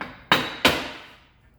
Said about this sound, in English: see if we can knock that drive shaft out now